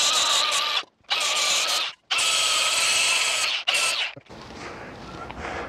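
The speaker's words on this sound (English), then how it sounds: "I'm just going to take a flap disc and smooth these out." A flap disc on a power grinder smooths large welding spatter chunks off an RV water heater conversion, loud close whining runs of about a second each with short stops, then a lower rougher spin-down.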